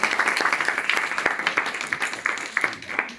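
A crowd at the Vella Quaresma festival in Llinars del Vallès claps for Carla, with individual hand claps distinct in a lively, uneven patter.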